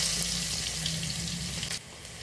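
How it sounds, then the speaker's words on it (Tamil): Garlic sautéing in hot oil with fennel powder in a pan while making wheat carrot noodles, a steady broadband sizzle with a low hum, continuous and close, ending in a brief drop near the end. "இப்போ வெள்ளைப்பூடு நல்லா வதங்கிடுச்சு"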